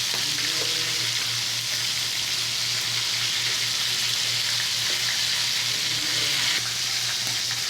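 Chicken pieces fry in a pan for a chicken curry, producing a constant close, loud sizzle with a low steady hum beneath and faint occasional utensil taps, without any speech.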